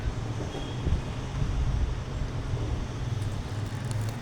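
Steady low rumble of street traffic from outside, a continuous wash of passing vehicles without any clear voices.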